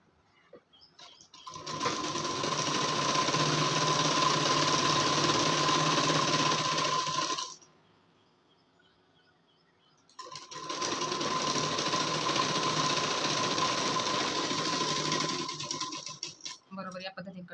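Sewing machine stitching a collar blouse, running in two steady, loud bursts of several seconds each with a short pause between, a constant mechanical whir with a strong steady hum.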